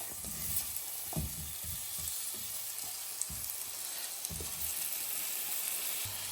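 Steady sizzling and crackling of pear slices frying in melted sugar in a hot pan, with a few soft clinks and scrapes over the continuous fry.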